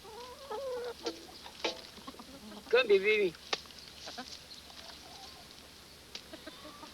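Chickens cluck near the camera while pecking at fruit, with a few short squawky calls and soft clucks over light background noise, and a man calls to them in a coaxing voice.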